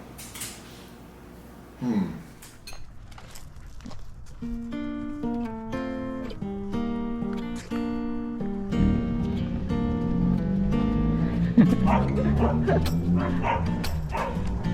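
A small pet dog's barks and yips come through a loud bed of tonal music, with the barking only partly standing out over the steady backing.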